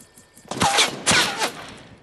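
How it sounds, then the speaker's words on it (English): Rapid bursts of Fortnite gunfire crack out loud and close in two main clusters with a trailing shot, following a quiet start, with no talking. "Ah, he's shooting."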